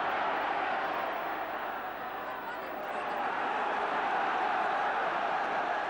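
A football crowd at the Ipswich Town versus Everton match in December 1984 keeps up a steady, dense roar throughout, with a slight dip in the middle.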